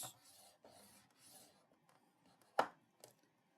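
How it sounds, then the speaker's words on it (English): A scoring tool draws along the long side of cardstock for a flowering meadow pillar card, making three soft scraping strokes in a row, then a sharp tap and a lighter tap, close and quiet with no talk. "We will score at 1/2 inch, 1 3/4,"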